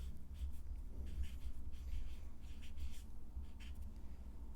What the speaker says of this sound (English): We're going to write it a few more times.